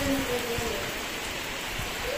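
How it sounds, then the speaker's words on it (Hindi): Heavy rain falling outdoors, a dense steady hiss of drops on surfaces that fills the whole stretch, with faint tonal hum at the start and end and no talk. "क्या ही खतरनाक बारिश हो रहा है ना"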